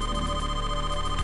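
Telephone ringing in the Deal or No Deal Game Boy Advance video game, a steady electronic ring tone held through the short moment, close and clear.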